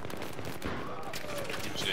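Shotgun fire in the PC shooter Battlefield 3 during Gunmaster mode, heard as dense, loud overlapping blasts and gunfire that fill the whole moment, mixed with game noise and voices.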